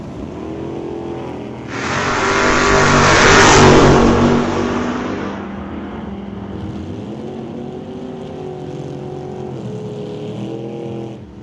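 A Chevrolet Bel Air and a 1969 Acadian launch in an old-time drag race, engines roaring loud and close as they surge and rev hard, then fall back to a steadier drone as the cars pull away down the strip.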